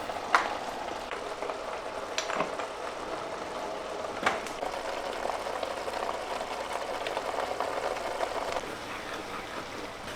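A dish simmers in a pan with a soft, steady bubbling sizzle throughout, close and low in volume, broken by a couple of faint utensil taps and no speech.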